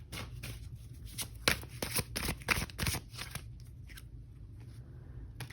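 A deck of oracle cards being shuffled by hand, a quick series of close, crisp riffling slaps and flutters, soft overall, fading to quieter rustles at the end.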